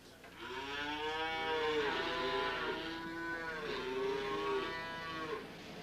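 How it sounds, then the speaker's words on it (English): Bull calves on a dairy farm moo in long, drawn-out calls, several overlapping bellows rising and falling one after another, fairly close and clear with no talking. "These are all bull calves."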